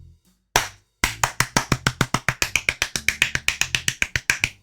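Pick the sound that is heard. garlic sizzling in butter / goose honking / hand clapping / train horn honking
hand clapping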